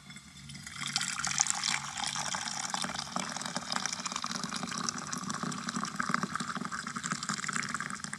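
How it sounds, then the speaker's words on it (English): Cold water poured into a coffee pot straight down its spout, a continuous close gurgling stream that starts after a brief quiet moment and keeps running steadily to the end, with no voices. "to pour about half a cup of cold water into the pot, specifically down the spout of the pot"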